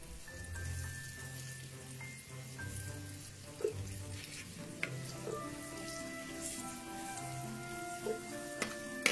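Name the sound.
flour-coated aubergines frying in oil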